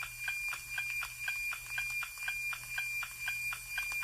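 Live weather satellite signal picked up by a radio receiver as the satellite passes overhead: a steady, evenly spaced tick-tock beat, about two pulses per second, over a constant hum with a thin whine.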